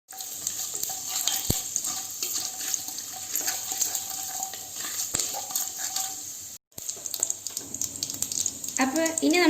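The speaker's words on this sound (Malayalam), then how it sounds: "എല്ലാ സ്പൈസസും ഇതിലേക്ക് ഇട്ട് നന്നായിട്ടൊന്ന് വഴറ്റിയെടുക്കാം" Whole spices sauté and sizzle in oil inside a pressure cooker while being made into chicken mandi, a steady frying hiss with a spoon clinking and scraping against the pot, a brief cut, and louder stirring near the end.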